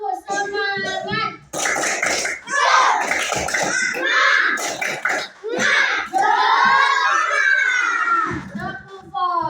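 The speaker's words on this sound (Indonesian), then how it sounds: "Tepuk semangat." Schoolchildren in an Indonesian classroom chant loudly together through a rhythmic clapping ice-breaker game, their hand claps punctuating the group chant.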